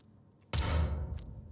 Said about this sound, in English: That is information, those gunshots.